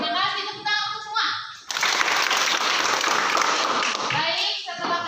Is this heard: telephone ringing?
no